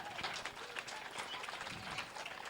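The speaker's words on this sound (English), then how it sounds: "Big round of applause for Eddie Mount." Spectators at a 2004 grasstrack racing meeting clap for a young rider, a steady outdoor patter of scattered hands that stays even and moderately faint throughout.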